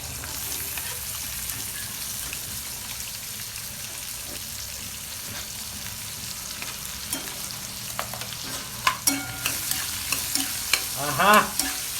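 Onion sautés in oil after a curry-leaf tempering for tomato chutney. A steady close sizzle runs throughout, with stirring and scraping growing busier and louder near the end, and no one speaks.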